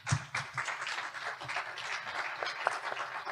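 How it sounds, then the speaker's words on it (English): Scattered applause from a modest audience at a county board of supervisors debate, fairly faint and uneven, with a few distinct louder claps among the patter. "So I think we need to give them a round of applause."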